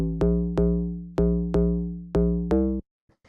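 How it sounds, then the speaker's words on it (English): Deep house sine wave FM bass from the Massive synth hits six punchy, sustained notes in a syncopated pattern, each decaying before the next, then cuts to near silence. "The first one we have is this bass,"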